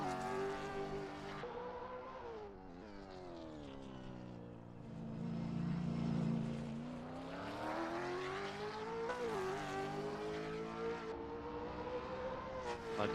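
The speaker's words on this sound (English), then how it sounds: "that car just sounds amazing around this track" A race car circuits the track at a championship race meeting, its engine a loud sustained roar that rises and falls in pitch through gear changes and corners, echoing around the circuit with no talk over it.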